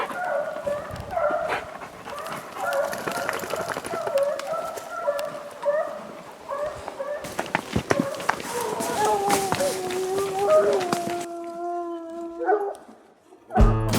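Bear hounds bark, bawl and howl steadily while running a bear's scent trail in the New Mexico backcountry, several dogs overlapping in a busy chorus, with long drawn-out howls near the end.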